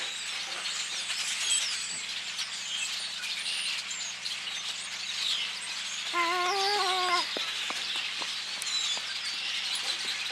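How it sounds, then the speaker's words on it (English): Birds calling from trees all around outdoors, a steady wash of chirps and twitters with a clearer run of repeated whistled calls midway, over a low constant hum, no talking. "Can you hear the birds?"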